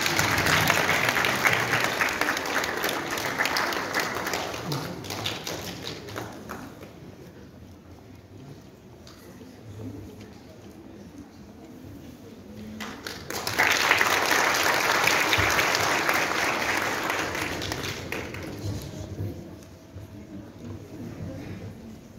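Audience applauding at an Easter charity concert, two long, loud swells of clapping separated by a quieter stretch of room noise.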